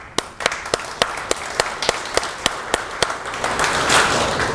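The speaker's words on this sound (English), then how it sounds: "Could we give a round of applause?" An audience at a tech talk claps in a small, sparse round of applause, with separate distinct claps at first that thicken into a fuller patter toward the end.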